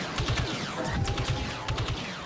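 Shotgun blasts in a team-based shooter video game come as a rapid run of sharp, booming bursts, with overlapping gunfire from several players filling the mix at a steady moderate loudness.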